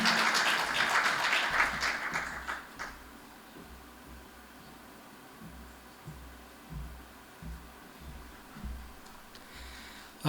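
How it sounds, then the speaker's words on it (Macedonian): Audience applause for Mayor Milina in a hall at a public commemorative forum, a burst of clapping for about three seconds that fades into a quiet room with faint shuffling. "аплауз за градоначалникот Милина што не остапи оваа прекрасна сала"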